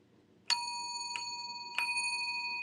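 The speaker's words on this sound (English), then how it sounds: "Hear that? This is an old bell." An old bell with an internal dinger striking a harp-like chime gives two clear, ringing strikes about a second apart, each note lingering in a sustained metallic tone, fairly quiet in a calm room.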